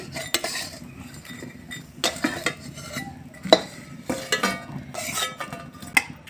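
Fried chita pitha flipped and lifted from a pan, heard as a run of close metallic clinks and scrapes from a spatula against the pan, with a faint background sizzle.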